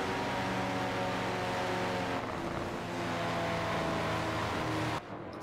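Engines of prototype race cars in a sim racing game at Virginia International Raceway drone steadily with layered, sustained tones, a shifting pitch midway, then drop off abruptly near the end.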